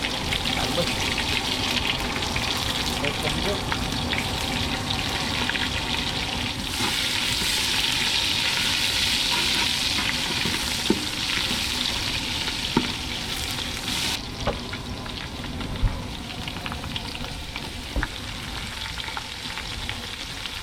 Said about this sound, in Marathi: चला सुरुवातीला टाकला आहे तो म्हणजे कढीपत्ता त्याच्यानंतर घेतला कांदा